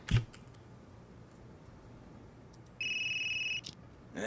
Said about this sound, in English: That geezer's phone is ringing.